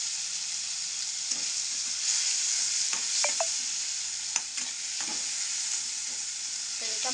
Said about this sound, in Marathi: तर टमाट्याला चांगलं मस्त फ्राय होऊन द्यायचं.